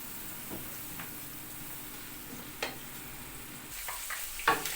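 Ground beef browning in a pan for a carrot, potato and spinach dish, giving a steady, quiet sizzle with occasional small pops and a few light stirring clicks, no talk.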